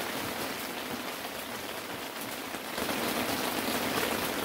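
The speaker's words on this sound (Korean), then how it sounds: "모처럼 비 같은 비가 왔네요" Heavy rain falls steadily at Chungju Lake during a night of eel fishing, a dense even hiss of drops drumming on a nearby surface that swells slightly louder toward the end, with no voices.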